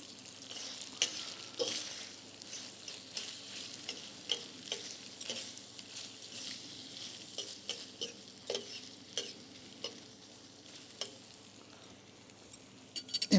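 Spaghetti Napolitaine sizzles in a frying pan as the pan is shifted, a steady soft frying hiss under a run of light scraping and tapping strokes, no talk.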